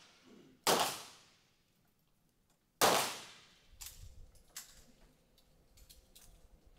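Two sharp pistol shots crack at a 25-meter rapid-fire pistol range during a Summer Universiade event in Gwangju, spaced about two seconds apart with fading echoes. Softer mechanical clicks and clatter follow, with no talking.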